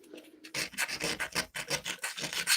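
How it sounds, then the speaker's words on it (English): MAPEI waterproofing membrane is scrubbed off tile by hand. Repeated rough rubbing strokes come in quick bursts, close and moderately loud, after a brief quiet start, with no speech. "I'll just take extra elbow grease to rub it off."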